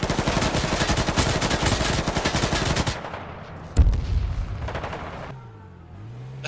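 Heavy rapid gunfire rattles in a video game battle for about three seconds. After it come a single deep, booming grenade blast and a fainter low rumble, with no talking.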